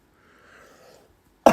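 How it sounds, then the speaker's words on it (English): A single sharp, loud cough from a person with bronchitis bursts out at the very end, after a stretch of near silence with a faint murmur. "and coughing a lot,"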